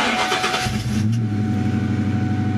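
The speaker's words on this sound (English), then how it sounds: "Another thing I did to the car to make it sound a lot better is I ended up getting some SLP exhaust." Ford Mustang with SLP Loudmouth exhaust starting up, a brief cranking whir catching into a deep, rumbling idle with a throbbing low burble, close and loud.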